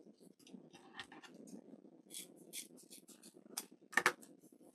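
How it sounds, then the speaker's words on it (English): Sharp scissors snip through a folded stack of thin strips for a wreath, giving a series of light, close crisp cuts, with a sharper louder snip near the end. "Bend it in half, and then I can cut them as a group."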